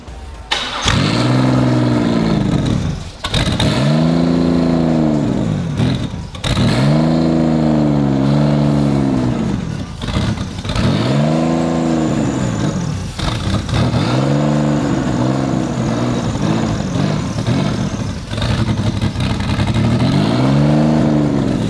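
A $200 car fitted with a diesel truck turbocharger, built as a drag racer, starts up and is revved repeatedly: loud, close engine bursts rising and falling in pitch, about eight revs with brief dips between, no talking.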